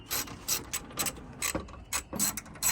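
A ratchet or screwdriver takes T25 Torx screws out of the front grille of a 2007 Vauxhall Zafira B, producing quick close bursts of clicking, about eight short runs in under three seconds.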